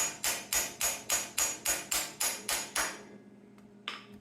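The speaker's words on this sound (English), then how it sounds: "take your hammer, take a hammer, and beat it down" A hammer beats down a pin on a Troy-Bilt tiller being fitted with a Predator engine, ten sharp metallic blows in an even quick rhythm up close, followed by a pause and one lighter tap.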